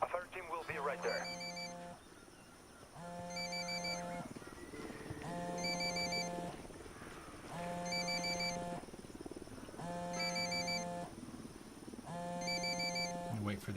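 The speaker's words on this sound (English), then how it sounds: "There's the phone. We're gonna answer." A telephone rings in Ghost Recon Wildlands, six evenly spaced electronic rings, loud and steady, over a low game background with faint voices.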